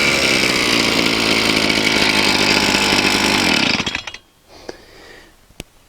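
A gas-powered T-post driver engine runs at a loud, steady idle, a constant buzzing drone that cuts off abruptly, leaving a few quiet clicks and knocks.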